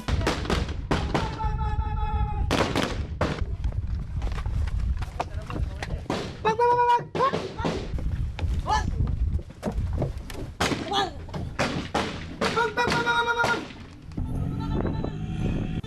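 Laotian soldiers in a drill without blank rounds mimic automatic rifle bursts with their mouths, voices imitating the gunfire in repeated sharp, rattling spurts mixed with shouting and talk throughout, close and fairly loud.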